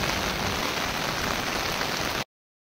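Heavy rain pours steadily and loudly in Lancaster, Cavite, a dense unbroken hiss of drops hammering surfaces that holds constant, then stops abruptly.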